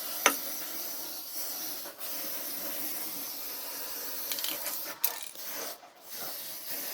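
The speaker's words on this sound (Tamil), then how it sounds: "இப்ப நம்மகிட்ட பாத்தீங்கன்னா ஏற்கனவே கருப்பு கலர் ஸ்ப்ரே பெயிண்ட் ஒன்று இருந்துச்சு. அதை இப்ப இதுல அடிச்சிடலாம்." Black spray paint hisses from an aerosol can onto a rusty gas stove in steady broadband bursts lasting several seconds, with small clicks and brief breaks between passes, fairly quiet and close.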